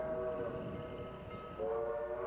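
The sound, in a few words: train horn and bell sound effect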